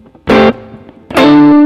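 Two loud, gritty electric guitar chords strummed and left ringing with warm, slightly overdriven amp tone, separated by a short pause, no voices.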